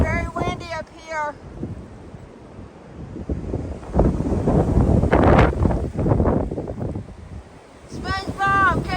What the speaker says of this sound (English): As you can hear, it's very windy up here.